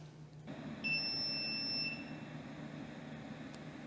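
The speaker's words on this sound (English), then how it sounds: "So now that it beeped, the water is to the proper temperature." A Cuisinart cordless electric kettle gives a high, steady electronic beep for about a second over a low background hum as the water reaches temperature, then fades back to the hum.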